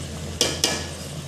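Chicken karahi fries in a pan with a low steady sizzle, broken by two quick metallic scrapes of the spoon as it is stirred, with no talking.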